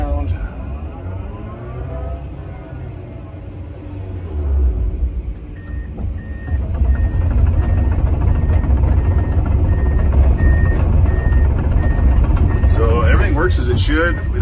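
A 2019 Komatsu PC210 LC-11 excavator swings around in high mode, its engine rumbling steadily and growing louder as a faint whine rises. Someone talks over the machine noise.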